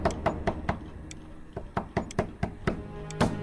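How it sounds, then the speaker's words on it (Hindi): Knocking on the door of a village headman's house in a cartoon story, a series of sharp, moderately loud raps in irregular clusters of two and three, alone without voices. "तभी कुछ देर बाद मुखिया जी के घर के दरवाजे पर दस्तक हुई।"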